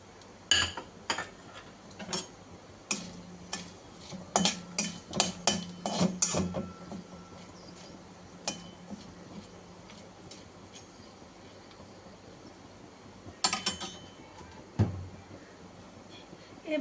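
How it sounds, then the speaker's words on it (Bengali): Whole garam masala spices and cloves crackling in hot oil, with sharp irregular pops clustered early and again later over a low steady hiss, and a voice now and then in the background. "একটু খেয়াল রেখো লবঙ্গগুলো ফোটে, ওটার জন্য একটু সাবধানে, একটু দূরে দেখো।"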